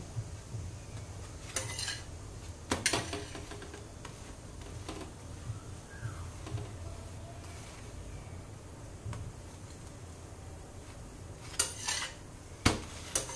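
Palak paratha is lifted off a hot iron tawa with a metal spatula, scattered sharp clinks and scrapes of metal on the griddle over a low background hum, with quieter ticking taps between them.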